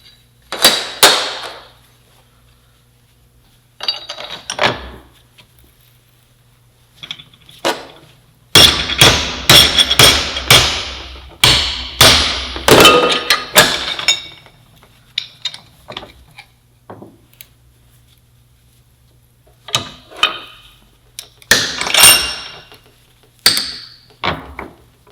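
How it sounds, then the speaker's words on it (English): Hammers strike a brazed metal sample clamped in a vise. Loud, ringing metallic blows land in irregular bursts, some rapid strings and some single hits, separated by short silent pauses. "Got a vise and some hammers. Let's see if we can get these things to break"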